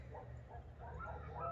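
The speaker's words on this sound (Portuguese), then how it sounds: "Os cachorros estão cantando." Dogs bark and yip in short, muffled bursts at a distance, heard from a bedroom window of a Tuscan-style luxury house overlooking a valley, with faint ambient background.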